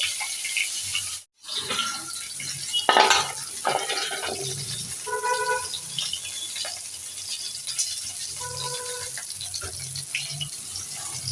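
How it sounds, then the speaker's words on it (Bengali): Fish frying in hot oil in a home kitchen gives a steady, close hiss and sizzle that crackles on and off throughout, with a few scattered clinks and soft knocks mixed in. "এই দেখো মাছ ভাজি হচ্ছে কীভাবে"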